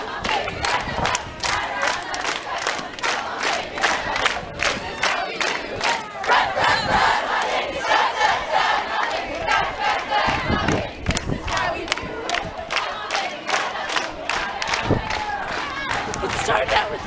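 A large outdoor crowd cheers and shouts steadily and loudly, with chanting, whoops and scattered claps rolling on throughout.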